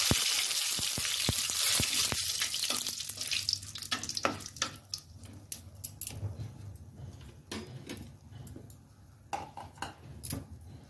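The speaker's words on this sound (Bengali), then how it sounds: "ফোড়নে আমি শুকনো লঙ্কা দিয়ে দিলাম" Dry red chillies crackle in hot oil as tempering for a cabbage curry: a loud sizzle at first that settles into scattered sharp pops and spits, close and alone.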